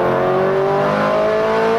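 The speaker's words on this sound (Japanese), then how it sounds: "すげえ高回転でのウエストゲートの開いた音っていうのが、 またこれチューニングカーっぽくてね" Tuned street car held at high revs with its turbo wastegate opening, giving a loud, close, sustained engine roar whose pitch climbs slightly over two seconds, with no voices over it.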